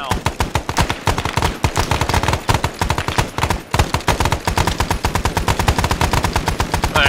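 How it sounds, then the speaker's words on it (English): Military-style rifles fired up into the air during a cavalry training event, a loud, continuous rapid volley of many overlapping shots that rattles on for seconds with almost no pause. "all of you guys shoot your guns up in the air."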